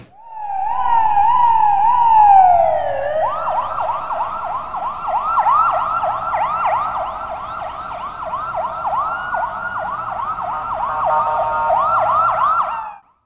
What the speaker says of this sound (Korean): 귓가를 때리는 앰뷸런스 소리를 따라 상월선원에 이르렀지만